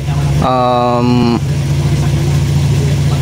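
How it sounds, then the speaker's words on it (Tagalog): A 2008 Toyota Vios engine stuck in first gear drones steadily and rises into a strained, higher-pitched rev for about a second before falling back to a constant hum. "umuugong yung makina, ayaw maglilipat ng second gear"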